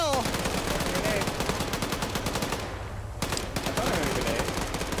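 Rapid machine gun fire in the military shooter game Arma 3, a dense continuous stream of loud shots with a short pause before the bursts resume, under faint commentary.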